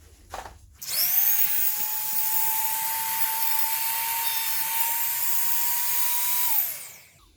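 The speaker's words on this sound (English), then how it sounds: "I'm using a Dremel 3000 with a sanding bit on the end" Dremel 3000 rotary tool with a sanding bit spinning up to a high-pitched whine and grinding against a Ford Mondeo ST220 brake caliper on the car. It holds a steady tone for several seconds, then winds down.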